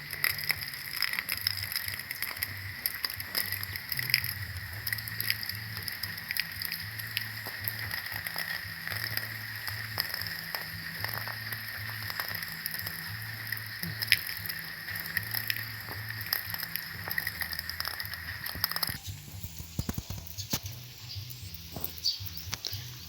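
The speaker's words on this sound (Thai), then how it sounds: "ฝนตกตอนเช้าพี่น้อง" Steady rain patter with constant hiss and scattered clicks continues throughout, with a low hum underneath and no voices.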